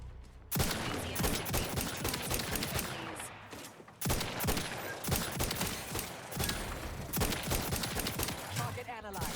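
Sustained gunfire from The Outer Worlds 2 combat: dense, continuous rattling volleys of shots, loud and close, with a brief pause before the barrage resumes; no speech heard.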